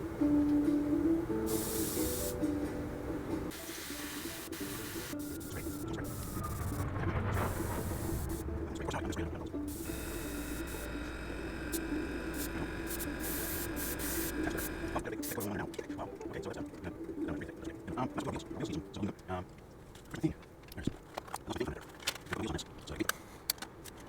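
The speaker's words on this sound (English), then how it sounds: "let's just spray paint this here." Aerosol spray paint can hissing in bursts over car parts, including black wheels being painted aluminum on a 1998 Pontiac Firebird Ram-Air, with a person talking and handling sounds between sprays.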